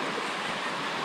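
Steady rushing water from the rapids of Deep Creek on a cold, rainy gray day, a dense continuous wash close to the microphone for about a second.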